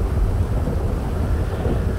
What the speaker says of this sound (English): It's fucking raining.